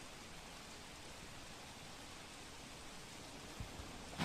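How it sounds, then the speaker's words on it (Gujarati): A heavy downpour falls in Surat district as low-lying areas begin to flood, making a constant, uniform hiss of rain throughout with no voices. "સુરત જિલ્લામાં ફરીથી ધોધમાર વરસાદ શરૂ થઈ ચૂક્યો છે"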